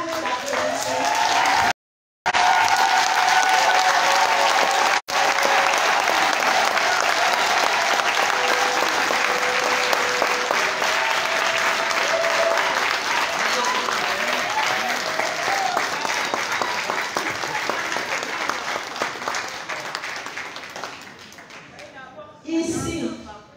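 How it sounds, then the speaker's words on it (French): Sustained, loud applause fills a hall at a national party convention as delegates rise, the clapping steady for over twenty seconds before tapering off, with a brief dropout near the start and crowd voices mixed in. "Levons-nous pour une salve d'applaudissements."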